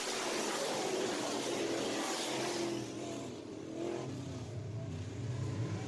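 Modified race cars accelerating off turn 4 on a restart at Deep South Speedway, a loud roaring pack of engines that swells and dips as the field surges back to green.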